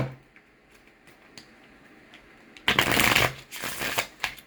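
A deck of tarot cards is shuffled in a loud, fast riffle burst after a few quiet taps and ticks, then softer flicks of handled cards follow, close up.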